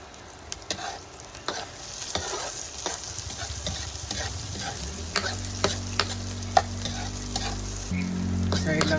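Garlic and other aromatics sauté in hot oil for kinunot na bangus, a continuous close sizzle broken by the scrape and tap of stirring, with no voices.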